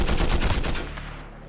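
A burst of rapid video game shotgun blasts, loud and close, fading into a ringing tail over the last half second.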